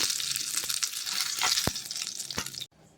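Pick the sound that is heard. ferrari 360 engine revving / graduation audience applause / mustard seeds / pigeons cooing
mustard seeds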